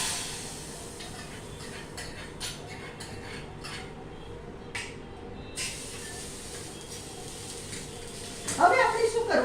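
Spices hit hot oil for a Gujarati dal tempering with a sudden crackling sizzle near the end, after a long stretch of steady kitchen hiss and faint clatter.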